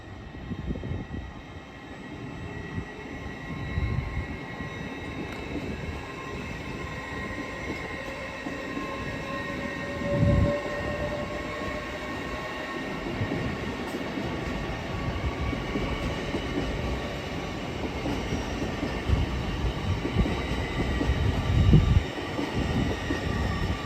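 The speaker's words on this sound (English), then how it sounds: "Now departing, we have the 1456 LNER Azuma service to London King's Cross from Aberdeen." An LNER Azuma bi-mode train, unit 800-109 on the 1456 Aberdeen to London King's Cross service, departs York station on the East Coast Main Line with a steady close rumble and rising traction whine, with wheel noise and a few sharp thumps.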